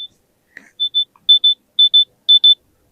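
OnePlus 3R earbuds sound their find-my-earbuds alert as a series of sharp, high electronic beeps in quick pairs, repeating four times and growing slightly louder, clear against a silent background.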